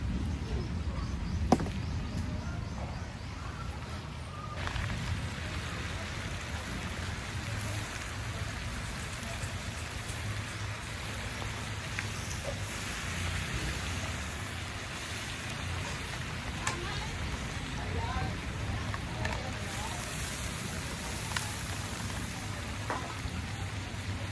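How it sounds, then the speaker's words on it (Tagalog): Steady rain falls and patters on surfaces, a constant wash of hiss with occasional distinct drops, and faint sounds in the background. "ayan na pag-ulan"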